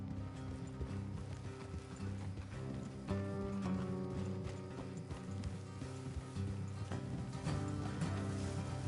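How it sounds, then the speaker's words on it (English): Horses' hooves clip-clop steadily in Red Dead Redemption 2, a continuous rhythmic plodding set quietly beneath a dense, droning game soundtrack with no speech. "Let's leave the horses here and go the rest on foot."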